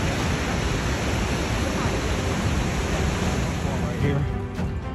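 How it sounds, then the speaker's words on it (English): Waterfall beside the John Muir Trail in the Yosemite backcountry, a steady broadband roar of falling water filling the scene, loud and constant throughout with no pauses, and faint voices just audible underneath. "Look at that waterfall."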